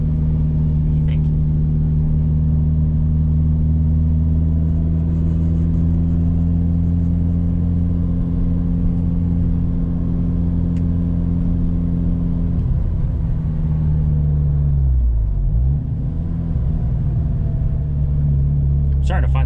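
A rebuilt Mitsubishi Lancer Evolution 9 MR, with metal found in its oil, drones steadily while driving, a loud close engine rumble holding an even pitch that dips briefly before settling again.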